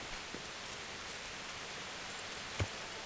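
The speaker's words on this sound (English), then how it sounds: "It's raining outside, I see." Steady soft rain hiss in the video game Kingdom Come: Deliverance, an even wash of patter with one faint knock near the end, no voices.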